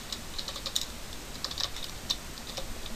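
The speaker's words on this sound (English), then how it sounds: "And I'm going to type a message to be displayed." Quick, light clicks of computer keys rattle in uneven bursts as code is entered, close and fairly soft, with no one speaking.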